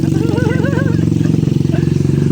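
A motorcycle carrying three riders runs at a steady, close engine drone throughout, with a voice talking over it.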